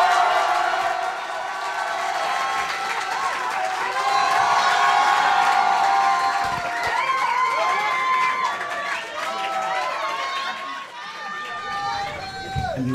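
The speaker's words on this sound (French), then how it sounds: "Je vous demande d'applaudir Miché Massivi" A studio audience on a French comedy TV show cheers, whoops and applauds a comedian, a loud, lively crowd roar with excited voices shouting over sustained clapping.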